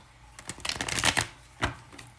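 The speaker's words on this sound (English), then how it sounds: "I'm going to shuffle these cards 5 times" Close-up riffling of a deck of tarot cards being shuffled, with several quick bursts of flicking and snapping and a final sharp riffle.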